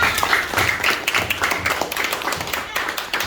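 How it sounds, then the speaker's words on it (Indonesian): A primary school class claps for a group of pupils, a close, loud burst of individual hand claps with uneven rhythm, some voices faintly mixed in. "Kasih tepuk tangan kelompok 6."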